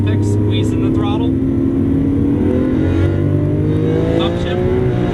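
A Lamborghini Aventador accelerating hard on a race track, a loud close engine roar with rising pitch sweeps, and someone talking over it.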